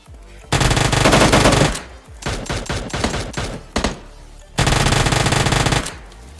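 Gunfire in PUBG Mobile Lite, with Mini 14 rifle named: loud, close bursts of rapid automatic fire, a long burst, a cluster of separate shots, then another sustained burst.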